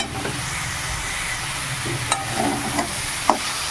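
Steady sizzling of ash gourd (chal kumra) frying in hot oil in a wok, a constant hiss with a few sharp clinks of a utensil against the pan.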